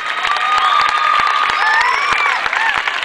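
Audience at a school cafeteria construction event applauding steadily, a dense wash of claps with no voices over it.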